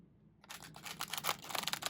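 Quiet at first, then a burst of rapid crisp riffling and flicking of tarot cards being shuffled close by, continuing in quick clustered bursts.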